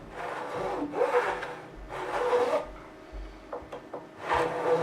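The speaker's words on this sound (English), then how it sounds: "I've got an even thinner razor saw here. Got a small razor saw." Thin, narrow razor saw cutting a slot in the wood of a 1980s Antoria EG1935 Rock Star semi-hollow guitar, heard as three or four bursts of close, rasping back-and-forth strokes with short pauses and small knocks between them.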